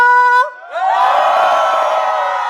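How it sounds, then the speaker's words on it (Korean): A short tonal note cuts off, then a large crowd erupts in loud, sustained cheering and shouting that holds steady to the end, at a concert stage at an agricultural international expo in Naju, South Korea. "자, 뒤쪽만 함성!"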